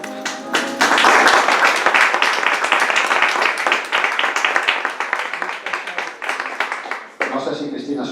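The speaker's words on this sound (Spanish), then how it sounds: "pido para él un fuerte aplauso" An audience at a lecture on Cuban history claps for the speaker: dense, loud applause that runs steadily for about seven seconds, then fades as a voice starts talking.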